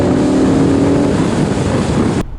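A BMW E61 M5 Touring's big naturally aspirated engine with individual throttle bodies revs hard and loud, a steady sustained roar that cuts off abruptly near the end.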